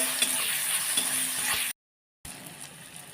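Tomatoes fry in a pan with turmeric and salt, giving a steady, fairly quiet sizzle with soft crackle, briefly cut out and then resuming at a lower level.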